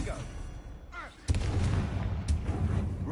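A Confringo blasting spell bursts in the Hogwarts Legacy video game, a sudden loud boom followed by a rumbling wash of magical effects. Earlier, fainter whooshing sweeps lead into it.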